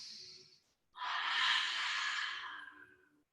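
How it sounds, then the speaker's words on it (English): A forceful open-mouthed lion's breath exhale during a yoga class comes loud and close, a single long breathy rush after a brief quieter breath. "Feel free to take lion's breath"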